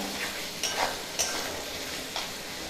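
Onion browning in ghee for pav bhaji gives a soft, steady sizzle, broken by a few clinks and scrapes as a spoon stirs the pan.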